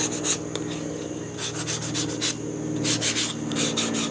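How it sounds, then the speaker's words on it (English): Hand sanding a fabric-covered test piece for a Taylorcraft clipped-wing aircraft restoration to knock off loose fuzz, with quiet, close rubbing strokes in an uneven back-and-forth rhythm and no voices. "this I just have to do a quick little sand on it just to get the remaining fuzzies off"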